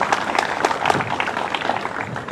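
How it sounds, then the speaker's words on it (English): An audience at an outdoor veterans mural dedication in DeKalb claps steadily. The applause is dense, close and moderately loud for a couple of seconds. "Let's give her a nice round of applause"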